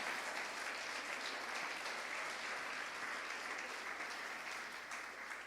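Sustained applause from a large church congregation, steady and dense throughout, with faint voices mixed in.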